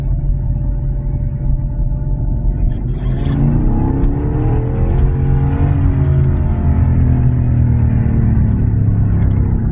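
An older car's engine with 165,000 miles on it accelerates while driving, its rumbling note climbing steadily in pitch as it revs up, loud and close from inside the cabin.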